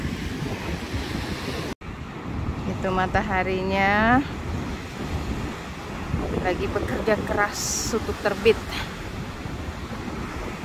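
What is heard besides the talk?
strong wind and ocean waves on a beach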